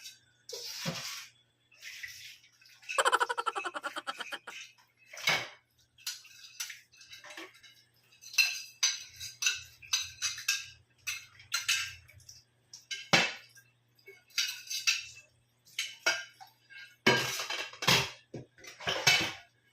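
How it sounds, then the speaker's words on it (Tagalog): Dishes, plates and cutlery clink and clatter during washing up, with close, irregular bursts of ceramic and metal knocks and some running water, mostly without talk. "Ang dami ko pa namang hugasan, oh. 2 plato."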